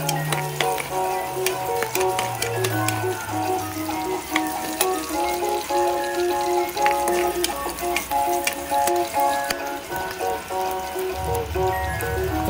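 Garlic fries in a pan while pansit is being cooked, giving a steady, close sizzle with occasional stirring clicks and sustained music playing over it.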